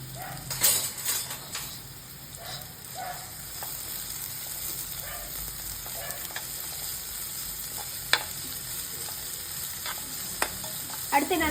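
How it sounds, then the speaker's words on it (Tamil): Onions and chili powder frying in oil for a simple chicken curry, a continuous close sizzle with occasional stirring scrapes and clinks. "நல்லா ஆயில்ல ஃப்ரை பண்ணணும்"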